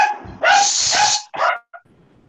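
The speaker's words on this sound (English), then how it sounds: "Stupid dogs." Dogs bark at close range in two loud bursts, a sustained bark followed by a shorter yip, with a brief faint whimper after and quiet room tone.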